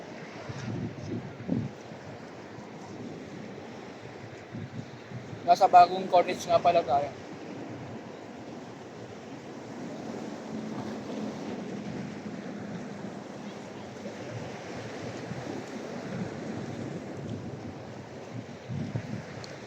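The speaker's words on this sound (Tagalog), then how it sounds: "Sobrang lakas ng hangin." Strong wind rumbles and buffets the microphone by the shore at the New Corniche in Dammam, with a person talking over it and a brief clattering burst partway through.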